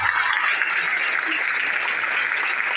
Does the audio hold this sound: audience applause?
yes